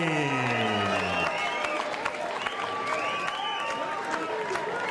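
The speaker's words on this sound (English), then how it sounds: "So appreciative applause from the crowd in attendance here at the Indigo Theatre at the O2 Arena" Appreciative applause from the crowd at a boxing event at the Indigo Theatre at the O2 Arena, continuous clapping and crowd murmur under a voice that carries throughout.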